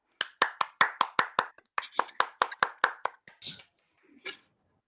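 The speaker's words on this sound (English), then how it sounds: "A round of applause for Omar." Applause for a poet at a Refugee Week open writing showcase, a small audience's claps in rapid bursts that thin out and stop, with a few sporadic claps at the end.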